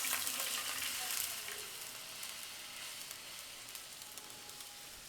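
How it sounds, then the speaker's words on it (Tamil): Beetroot juice poured into melted ghee sizzles steadily in a pan while being stirred, a bright continuous frying hiss that is loudest at the start and eases slightly, with no talking. "இந்த நெய் நல்லா உருகுனதும் நம்ம எடுத்து வச்சுருக்க இந்த பீட்ரூட் சாறை இதில் ஆட் பண்ணிக்கணும்"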